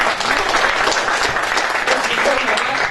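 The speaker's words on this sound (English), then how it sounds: "A round of applause." An audience at a Rotary Club presentation bursts into loud, steady applause, a dense wash of many hands clapping close by.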